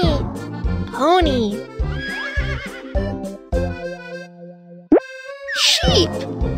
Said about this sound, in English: Pony.